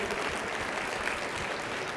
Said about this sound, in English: Everybody give Jeremiah a round of applause again.